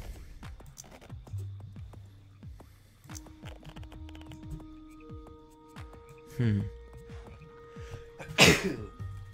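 A sneeze bursts out loudly near the end, after a smaller throaty burst, set against quiet game music with low-level sounds throughout.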